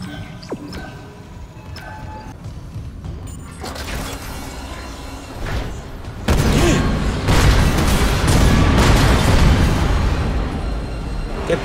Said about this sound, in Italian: Che botti, mamma mia, botti di capodanno proprio.